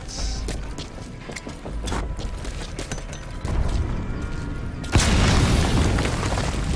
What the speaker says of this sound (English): Or do I just throw a grenade at it?